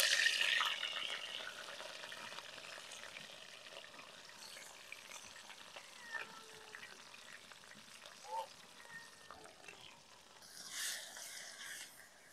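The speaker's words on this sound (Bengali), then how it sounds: "কড়াতে তেল দিয়ে দিয়েছি, এবার আমি মশলাগুলা দিয়ে সুন্দর করে কষে নেব।" Spices frying in oil in a wok (kadai) for a chicken dish make a soft, continuous sizzle, brightest at the start and again near the end, with faint stirring clinks in between and no voices.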